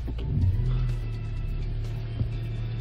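A car pulls up nearby, its engine a steady low rumble with a brief swell in revs near the start, then holding a level idle-like drone with no talk over it.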